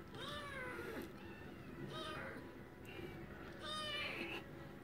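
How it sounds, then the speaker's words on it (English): A pet cat meows repeatedly at close range, four or five drawn-out, rising and falling calls in steady succession against a soft background hum. "he's meowing at me."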